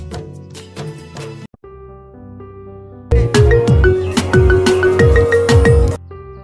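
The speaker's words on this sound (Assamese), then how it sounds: "সঞ্জয় বিজয় তোকে ফোন করে রহে" A bright electronic ringtone melody plays, pauses briefly, then returns louder with a fuller, repeating chime pattern until it cuts off.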